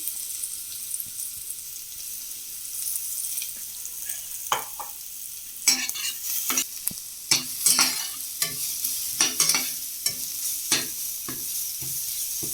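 Ground wet-coconut masala frying in a pan for Maharashtrian pithla, a soft low sizzle under a series of sharp spoon scrapes and clinks against the pan that come quicker toward the end. No one talks.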